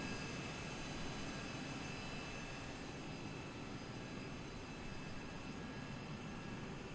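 An F-16 lands in a flight simulator game, a steady broad jet-engine roar that holds evenly at moderate level without any break.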